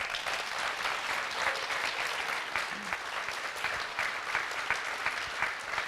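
An audience at a talk of personal testimonies about the Phoenix Lights applauds continuously, a thick, even roar of many clapping hands sustained for several seconds.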